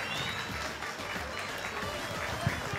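Audience applause at a hall event honoring a former Afghan security chief, steady clapping from a crowd that continues throughout while someone speaks over it.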